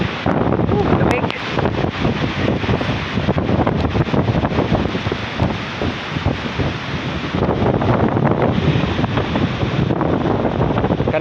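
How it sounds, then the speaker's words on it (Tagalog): Strong wind roars and buffets the microphone continuously, a loud broadband rush with gusty surges throughout, after rain in Balingasag, Misamis Oriental. "Pero hangin po dito sobrang lakas."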